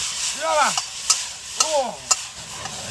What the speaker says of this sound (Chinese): 先给它煎一掉，先把它这个油给它煎黄